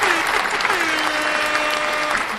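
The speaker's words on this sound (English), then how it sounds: "You have an applause for that?" A canned applause sound effect played on a sports picks podcast, a short continuous burst of crowd clapping, loud and close for the full two seconds.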